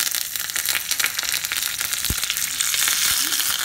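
Curry leaves and a whole red chilli with mustard seeds sizzle in hot oil for a South Indian coconut chutney tempering, a close, bright, crackling fry with sharp pops.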